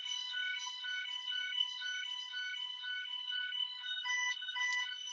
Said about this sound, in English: Sorry, having a fire alarm.